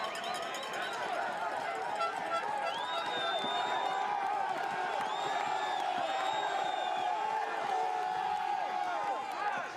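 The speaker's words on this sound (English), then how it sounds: "Fantastic crowd today." Large crowd of spectators cheering and shouting along the course at a men's elite UCI cyclo-cross World Cup race in Namur, Belgium, a dense continuous roar with whoops and scattered clapping.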